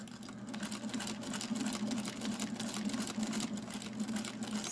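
A Singer Featherweight sewing machine quilts with a walking foot at a long stitch length, its rapid, even mechanical hum and needle chatter running steadily up close for the whole stretch, with no talking.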